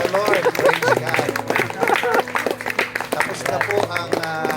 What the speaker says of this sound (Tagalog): Palakpakan po natin ang bagong kasal. Sige po, mas malakas na palakpak.